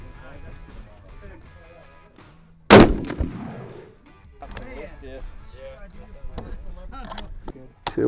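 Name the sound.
rifle gunshot at target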